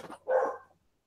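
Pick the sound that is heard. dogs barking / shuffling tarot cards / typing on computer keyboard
dogs barking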